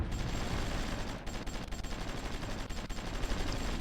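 Gunfire from military units in the strategy game Supreme Ruler Ultimate crackles in dense, rapid volleys under a steady background wash.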